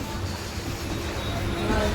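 Steady low rumble and rolling rail noise from inside a general coach of the Vikrama Simhapuri Amaravathi Super Fast Express between Gudur and Vijayawada, continuous and fairly loud with faint background voices.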